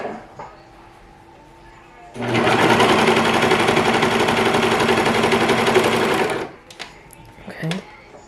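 A Serger 1034DX overlock sewing machine runs steadily for about four seconds as fabric feeds under the presser foot, a loud, dense mechanical whir that starts and stops sharply. A few handling clicks and a brief voice come before and after.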